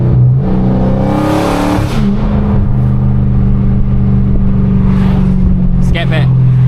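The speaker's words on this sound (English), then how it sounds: "Bro, hit the gas a little bit." Dodge Scat Pack car engine revving and accelerating, a steady loud low rumble throughout with a rising surge near the start, heard from close by with voices talking over it.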